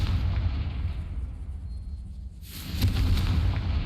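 A Confringo fire spell in Hogwarts Legacy goes off as a deep rumbling blast, with a low roar that swells into a sharper burning burst partway through, loud and close over the game's background.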